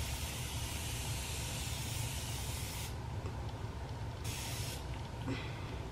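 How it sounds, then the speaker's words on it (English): Morphe makeup setting spray hisses in a steady, close, continuous mist for several seconds, the broad airy noise changing slightly in texture midway with no talking over it. "So I'm gonna go ahead with my setting spray"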